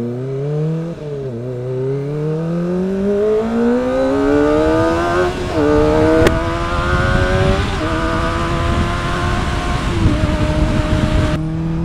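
Motorcycle ridden on a leisure ride, likely a Kawasaki ZX-25R or Yamaha MT-09, engine note rising steadily through the gears with brief dips at shifts, loud and close throughout with no talking.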